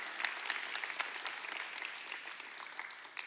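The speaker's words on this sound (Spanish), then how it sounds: "Dale fuerte el aplauso a Dios." Church congregation applauding during a worship service, a steady wash of many hands clapping together at moderate level, with a few sharper claps standing out.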